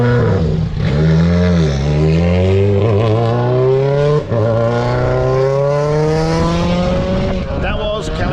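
Kalle Rovanperä's WRC rally car at the 2023 Acropolis Rally in Greece, entering stage 2 on a Friday morning in the mountains, loud and close with a rising, revving engine note and gear shifts across the whole stretch.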